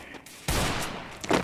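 A new shotgun fires in Garena Free Fire: a sudden loud blast breaks in after a quieter stretch, then the roar trails off and a second burst follows near the end.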